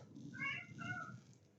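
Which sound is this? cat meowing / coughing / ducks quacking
cat meowing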